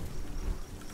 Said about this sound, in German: Oh, guck mal, es regnet.